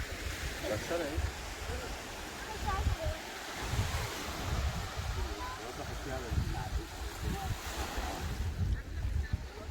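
Sea waves wash continuously onto the beach at Maamoura, a broad rushing surf mixed with wind buffeting the microphone, steady and fairly loud from start to end.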